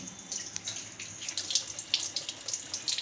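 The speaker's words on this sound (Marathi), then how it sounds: "नळाखाली अशा पद्धतीने धुवायचं बघा, एकदम शुभ्र झालेलं आहे।" A running kitchen tap splashes steadily while a crab is rinsed clean beneath it. Water hisses and patters with irregular spattering bursts as the crab is moved under the stream, fairly quiet and close, with no talking.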